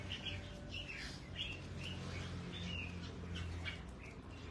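Pet songbirds chirp and tweet repeatedly in short bright bursts at bath time, fairly close, over a steady low background hum.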